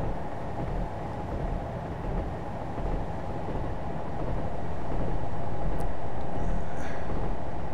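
A Class 37 diesel locomotive drives along the Wherry Line in Train Simulator 2017, a steady broadband engine rumble and rolling rail noise that gradually grows louder, with no voices.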